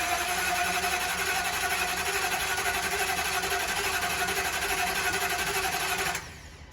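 A salvaged 2017 Ford Econoline-based Thor RV engine cranks over steadily with a loud, rapid rhythmic whirring for about six seconds before the starter cuts off abruptly.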